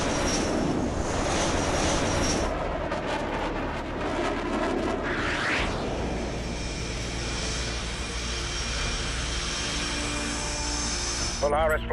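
A jet fighter in Tom Clancy's H.A.W.X. 2 roars with a loud, continuous engine rumble and rising whine, heard under radio voices talking, steady and close for the whole stretch.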